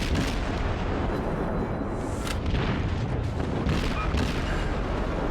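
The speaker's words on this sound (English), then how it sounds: "So I get him with 2 torpedo hits, but he's still managing to stay alive" Dense, continuous rumbling booms and blasts of naval combat in World of Warships, with torpedo hits landing on a ship amid loud artillery fire throughout.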